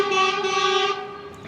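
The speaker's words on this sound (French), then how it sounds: "le poids lourd vient de klaxonner parce que les virages sont vachement étroits" A heavy truck sounds its horn on a narrow, winding mountain road in the Pyrenees forests, a single loud, sustained blast lasting about a second and a half that fades slightly at the end.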